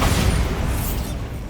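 A Bombarda explosion spell in the video game Hogwarts Legacy lands as a loud, deep booming burst that rolls off and fades over about a second and a half.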